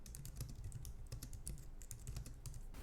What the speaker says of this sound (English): So both keyboards give me a really nice satisfying feel and a nice clicky sounds. I love typing on both these keyboards.